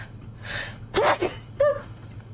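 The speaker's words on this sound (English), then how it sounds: "Oh, I'm gonna sneeze." A person gives a single sharp sneeze preceded by a short intake of breath, close and fairly loud against a low background hum.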